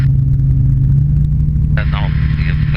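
Microlight aircraft engine in flight, billed as the world's fastest microlight, on a flying holiday in Portugal: a steady, loud drone with a strong low hum throughout, joined near the end by a brief voice.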